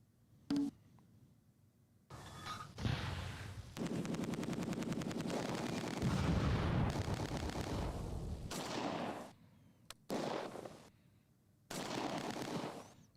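Gunfire rattles through a Close Combat 2: A Bridge Too Far battle at Arnhem. Short single shots give way to long, sustained machine-gun bursts and fusillades, alternating with quiet gaps.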